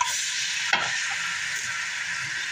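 Carrots and potatoes frying in oil in a pan while cooking mechado stew, a steady close hissing sizzle with a brief stirring clatter partway through.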